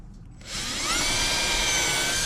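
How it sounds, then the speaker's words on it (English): A power drill bites into a vintage camper door, starting after a short quiet moment and then whining steadily and loudly at a constant pitch until the end. "now I just start drilling some holes and put some screws in."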